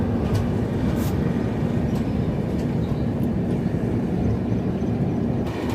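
Aboard the JP YPR SF Express 20668 just after it leaves Bellary station, the train gives a steady, loud rolling rumble and wheel noise that continues without a break for several seconds.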